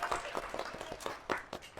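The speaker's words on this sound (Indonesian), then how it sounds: "tepuk tangan buat kita semua" Audience in a teaching session breaking into brief applause, a quick run of separate close claps in uneven rhythm that fades out within two seconds, fairly faint overall.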